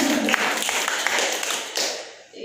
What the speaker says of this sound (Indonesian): Tepuk tangan untuk TK